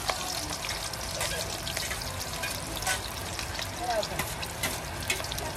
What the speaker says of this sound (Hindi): अभी तेल गर्म हो गया, जीरा डाल दिया है